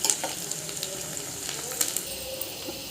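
A tempering for spinach dal fries in hot oil with a soft, continuous crackling sizzle close by and a few brief clinks.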